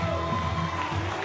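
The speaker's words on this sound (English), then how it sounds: "And the crowd standing and applauding" Arena crowd at a professional wrestling show, standing and applauding, a loud continuous wash of cheering and clapping with whoops rising through it, close and sustained from start to end.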